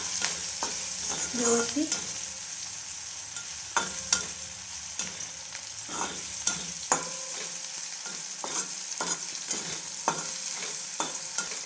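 Tomatoes fry and get stirred in a pan for Vidarbha-style paneer bhurji. A steady sizzle runs under repeated clacking, scraping spoon strokes at an uneven rhythm, and one word is briefly spoken.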